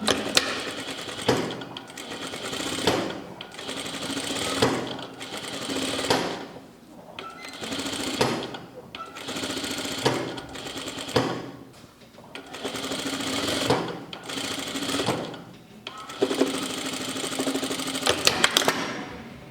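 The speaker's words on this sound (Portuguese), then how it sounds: "agora eu vou costurar daqui 1 centímetro" A sewing machine stitches a seam joining the sleeves of a blouse, running in repeated bursts of rapid mechanical whirring separated by short pauses, close and clear.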